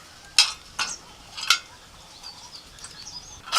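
A spoon scraping and stirring a thick batter of semolina, sour yogurt, green pea paste and salt in a bowl, a few sharp close clinks at the start, then soft faint mixing sounds, no talking.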